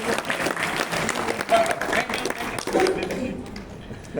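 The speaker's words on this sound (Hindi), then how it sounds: "तीनों भैया के लिए ताली बजाइए" An audience at a teachers' training workshop claps for three performers after a short act, a sustained round of applause that fades out toward the end, with a voice speaking over it.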